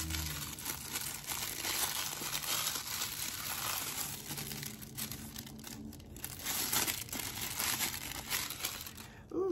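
Paper and plastic packaging crinkles and tears close up as a day-two door of a beauty advent calendar is opened, a steady run of rustling and crumpling throughout.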